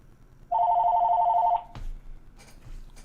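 A telephone bell rings in one steady electronic trill lasting about a second, followed by a click and faint rustling.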